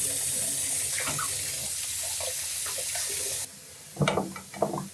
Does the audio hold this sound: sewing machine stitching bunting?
no